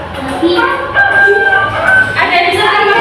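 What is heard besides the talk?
chicken sound, rooster crowing in a guessing game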